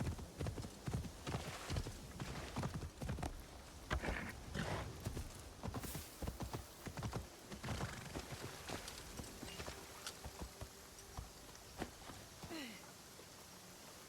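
Horse hooves clip-clopping in the video game Assassin's Creed Shadows, a quiet rhythmic run of hoof clops at walking pace over soft ground, fading lighter toward the end.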